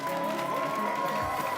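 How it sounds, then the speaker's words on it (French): A studio audience on a TV entertainment show applauds and cheers for a participant wearing a wig, a steady, moderately loud wash of clapping with a sustained tone running through it. "Applaudissements pour Armel"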